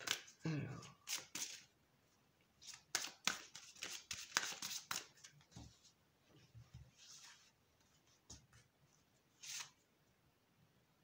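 Oracle cards being shuffled and handled for a draw, with bursts of rapid papery riffling and scattered card snaps, close and quiet, interrupted by short stretches of near silence.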